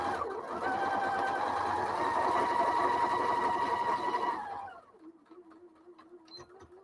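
Sewing machine joining fabric pieces, a steady loud hum running for several seconds before stopping abruptly, followed by quiet room sound with a faint hum.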